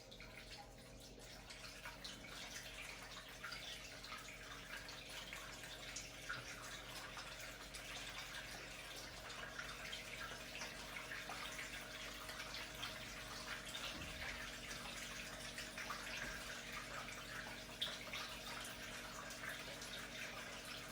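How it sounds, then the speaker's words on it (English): Water rushes through a model river valley in a steady, faint broadband wash throughout, a continuous flowing hiss with no talking. "We're going to add enough water that it will be like a 100-year flood moving through this valley"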